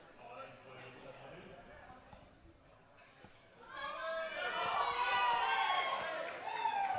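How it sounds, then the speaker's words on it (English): At a powerlifting meet, quiet murmuring gives way to a loud swell of crowd cheering and shouting during a women's deadlift attempt, and a commentator talks over it. "Big cheer from the crowd here"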